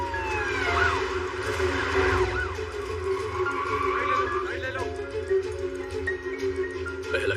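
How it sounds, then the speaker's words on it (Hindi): A police siren wails continuously with rising and falling tones, growing steadily over constant traffic rumble. "पुलिस की गाड़ी आ रही है, जल्दी।"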